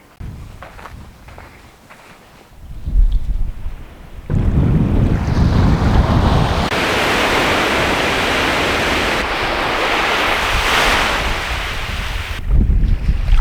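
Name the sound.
ocean waves on a Newfoundland beach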